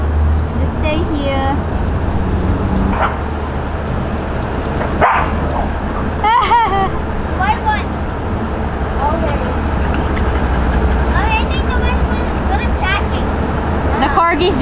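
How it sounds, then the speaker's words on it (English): A dog barks and yips in short scattered bursts amid steady background road noise, with people talking nearby between the barks. "He's just good at barking."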